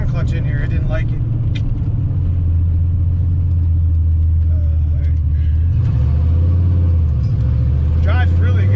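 A tuned car fitted with a Ram clutch drives along, its engine giving a steady, loud low rumble from inside the cabin, with a brief dip and shift in tone partway through.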